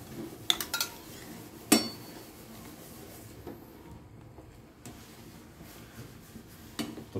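Goat curry spices being stirred in a pot with coconut milk and galangal, quiet scattered clinks and scrapes of a utensil against metal with a few sharper knocks, faint and intermittent.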